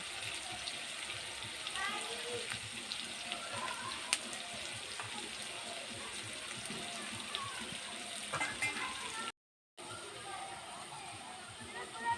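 Continuous soft sizzling of potatoes frying in a pan, with faint clinks, broken by a brief silent gap.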